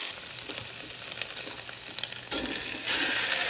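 Ground beef frying in a pan for caldereta chili, a steady loud close sizzle with crackling and occasional stirring scrapes, no talking.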